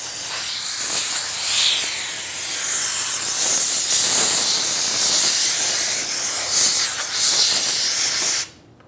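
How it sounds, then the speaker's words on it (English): Compressed air blasts in a loud, steady hiss to clear debris from around the fuel tank of a 1994-2004 Ford Mustang, swelling slightly in places, then cutting off abruptly near the end. "use some compressed air and clean up the debris around here, the dirt, anything like that"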